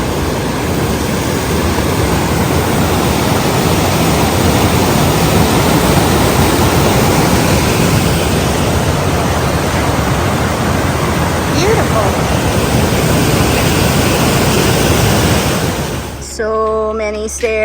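Rushing water of the Thompson River on the Foothills Trail, a loud, steady broadband roar that fills the whole stretch and cuts off abruptly at the end.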